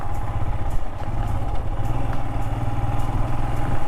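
A motorcycle ridden on a rough, potholed off-road track near Igatpuri and Talegaon Dam drones steadily up close, its engine pulsing evenly under faint rattles from the bumpy ground.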